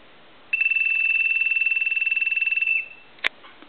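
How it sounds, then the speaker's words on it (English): Ringer of a tomato-shaped Del Monte telephone sounding one steady electronic warble burst of about two seconds, followed by a single sharp click as the handset is lifted. "We repaired the ringer circuit for the ring cycle, and that's been repaired."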